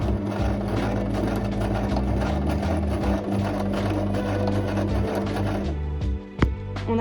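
A sewing machine runs steadily, stitching gathered fabric into a Peter Pan collar for a shirt, with a continuous mechanical whir that stops briefly near the end.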